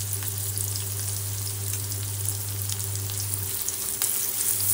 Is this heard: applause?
no